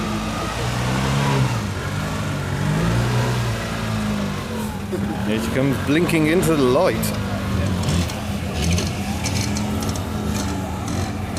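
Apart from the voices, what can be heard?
Daihatsu Cuore two-cylinder engine revving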